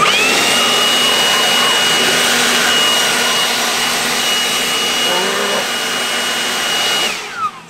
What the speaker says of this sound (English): It's just a normal grease gun.